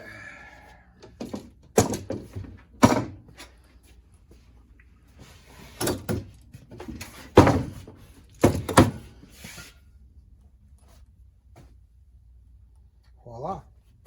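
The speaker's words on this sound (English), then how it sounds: "The closet door for the furnace is now born." Homemade wooden closet door for a furnace being handled and shut, giving several separate knocks and thumps spaced out with quiet gaps between them, near and fairly loud.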